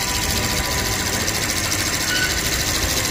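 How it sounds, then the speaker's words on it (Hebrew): A Rolls-Royce V12 engine runs close by at a steady, smooth hum with a fine even buzz and no clear rise in revs, a constant mechanical drone without speech. "תן גז! תראה מה זה, מנוע V12, כמו קסם."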